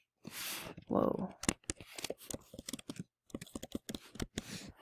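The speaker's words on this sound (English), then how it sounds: "I'm going to double click and type Rock Cycle" Keys clatter on a computer keyboard as a title is typed, a quick close run of light clicks after a louder rustle, all quiet.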